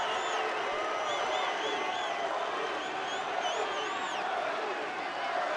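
A large baseball crowd at a Cardinals road game in Colorado chants and cheers steadily, a dense continuous roar of many voices with whoops and whistles rising throughout.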